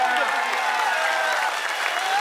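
Crowd applause at a kushti wrestling bout in Chandur, Maharashtra, between Shivraj Rakshe and Tedo, a steady wash of clapping held at a constant level for the whole stretch, with a voice faintly mixed in.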